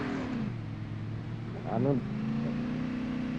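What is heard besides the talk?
motorbike engine in a video game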